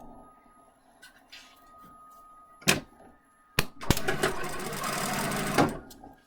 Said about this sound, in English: while I am sewing, I can tell the machine